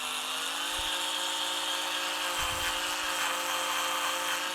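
A Mitoart cordless electric spin scrubber runs at slow speed with a steady, close motor whine and a brushy hum, constant throughout with a few faint low bumps.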